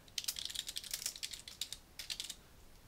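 Rapid, uneven clicking of keys on a computer keyboard as a food name is typed into a database program, close and crisp with no talking.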